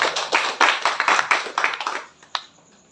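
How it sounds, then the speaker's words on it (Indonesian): A church congregation gives a short burst of brisk, fairly close clapping, roughly two seconds of overlapping claps that stops abruptly, followed by one stray clap in the quiet. "Tepuk tangan buat Tuhan."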